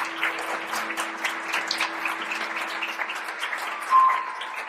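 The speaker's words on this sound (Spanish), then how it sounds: "Vamos a darle un aplauso de bienvenida." A church congregation gives a welcoming round of applause during a Sunday service, fairly light, distinct clapping running steadily throughout, with a faint sustained tone underneath.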